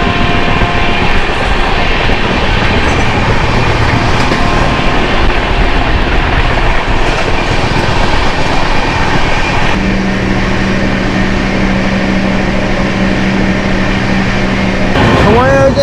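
The Howrah Ranchi Shatabdi Express running through Bardhaman station, a loud, continuous rushing roar of train motion from on board, with a sustained hum joining midway and a brief screech near the end.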